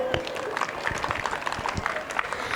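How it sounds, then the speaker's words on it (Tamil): Audience applause welcomes schoolchildren at a Tamil-language annual day event, a steady patter of clapping under chatter and voices throughout. "கரகோஷத்துடன் அவர்களை வரவேற்போம்."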